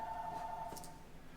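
A telephone gives one faint electronic ring, a short steady warbling tone that stops after about half a second, with quiet room noise around it.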